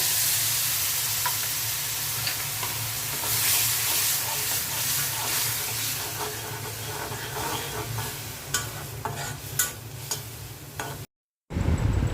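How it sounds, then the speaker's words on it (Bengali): Frying masala for a beef brain curry keeps up a steady sizzle as a little water goes into the pan, with stirring scrapes building toward the end and a short gap near the close. "এখন অল্প করে পানি দিয়ে দিব।"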